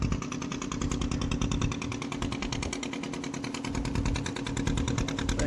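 A steady, close motor drone runs throughout with a rapid rhythmic chugging pulse from a fishing boat's engine running at a constant pace out at sea, with no talking.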